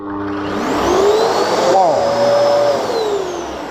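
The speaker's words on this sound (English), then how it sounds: "But I just want you to hear the noise of this machine." A Genesis upright vacuum cleaner runs loudly up close, a strong steady motor whine with a pitch that bends up and down as the machine moves, while someone talks over it.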